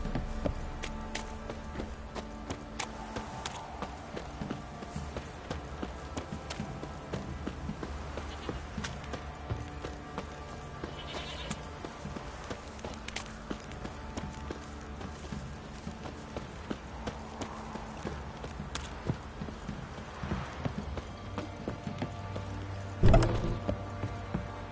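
Horses in The Witcher 3 plod with soft, steady clip-clop hooves beneath a low game ambience, distant and faint, with no clear neigh standing out.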